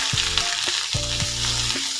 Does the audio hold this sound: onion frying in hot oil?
yes